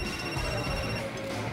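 A mobile phone rings with an incoming call, its tone steady and fairly loud, repeating across the short span with no talk over it.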